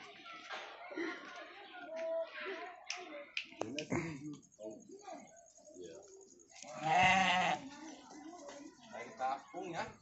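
Goats bleat from a pen set inside a building-materials warehouse, several short wavering cries close by, one louder call standing out midway, mixed with people talking throughout.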